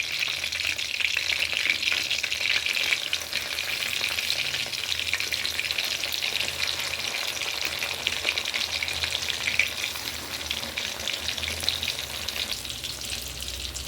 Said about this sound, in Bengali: সমস্ত পুর ভরা কাঁকরোলগুলো আমি তেলের মধ্যে ছেড়ে দিলাম